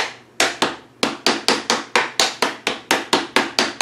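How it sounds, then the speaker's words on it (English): A hammer taps a plumbing part into place with about fifteen sharp, evenly spaced knocks in quick succession, loud and close, with no talking. "Just kind of tap it with a hammer a little bit."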